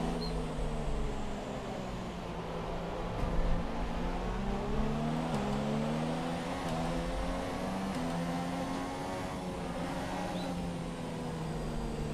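Formula 1 race cars from an F1 video game at the USA Grand Prix, running under safety car conditions: a steady, loud engine drone with rising and falling pitch sweeps throughout, no talking.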